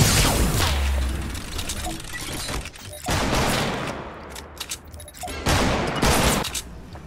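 Rifle fire in a video game comes as loud, rapid bursts of shots in quick succession, close and punchy, with mechanical clatter between bursts and a player talking.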